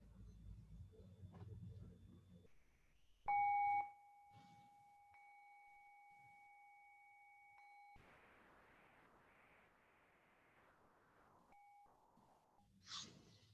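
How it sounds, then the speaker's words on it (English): A meditation bell struck once with a stick at an online Sunday sangha gathering rings out in a clear, pure tone that lingers and slowly fades over several seconds, with quiet room noise and brief faint sounds around it. "I can hit our bell."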